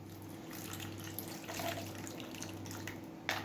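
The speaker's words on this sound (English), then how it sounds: "ice water with our coloring in it" Ice water tinted with food colouring poured into sausage roll dough, a soft steady trickle of liquid over a low background hum.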